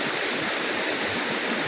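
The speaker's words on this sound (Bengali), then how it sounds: "দেখো এরকম নিচের দিকে জল চলে যাচ্ছে আর ওখান থেকে এরকমভাবে পড়ছে" Water pouring down at Moskovitz waterfalls near Manali, a steady loud broadband rush with no break, heard close and alone.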